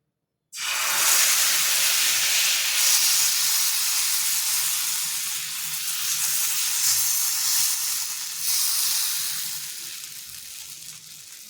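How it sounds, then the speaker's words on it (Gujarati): Farali pudla batter hits a hot oiled griddle and bursts into a loud, sudden sizzle that hisses steadily and close, fading slightly toward the end, with no talk. "જે આપણે પુડલાનું ખીરું બનાવ્યું છે એ આપણે તવા પર પાથરી લઈશું।"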